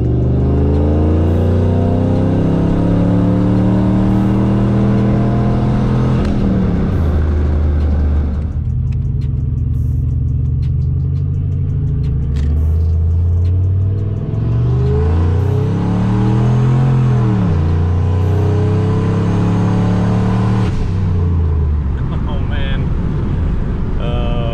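A boosted car engine running around 9 to 10 PSI of boost revs hard and accelerates, loud and close, with rising and falling harmonic sweeps, a brief drop near the middle, then another strong pull.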